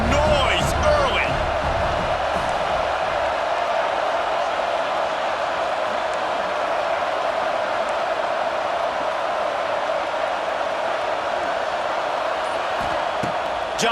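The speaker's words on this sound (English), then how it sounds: "This crowd bringing the energy and noise early" A stadium crowd in EA Sports College Football 26 roars steadily and evenly throughout, a dense wash of cheering with a few faint thuds early on.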